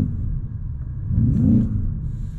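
A Citroën XM tuned to 700 hp rumbles low and steady, swelling briefly as the engine pushes harder midway before easing back, heard from inside the car with no talking over it.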